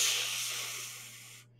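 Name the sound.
group imitating a geyser releasing hot steam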